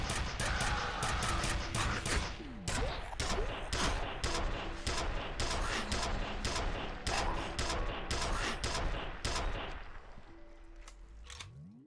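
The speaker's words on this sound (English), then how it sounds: "Minigun gunshots sound like you are hitting them with a club at high speed." Minigun fire in a first-person shooter video game, a loud rapid fusillade of shots in quick bursts that run nearly nonstop and then trail off at the end.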